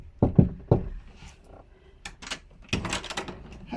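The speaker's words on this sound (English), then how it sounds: "So we'll just knock on the door." Knuckles rap a few quick times on a hotel room door, firm and close, followed by rustling and a door being handled, with no talking.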